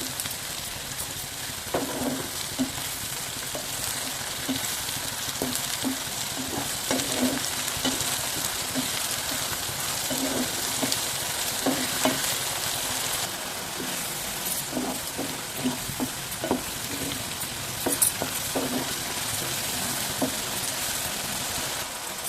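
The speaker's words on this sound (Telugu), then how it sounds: "ఇంకా కొంచెం మసాలా అంతా కూడా బాగా వేయించుకుందాం" Onion-and-spice masala for a fish curry frying and being stirred in a pan, a steady sizzle broken by repeated scraping strokes of the spoon, close and fairly loud with no talking.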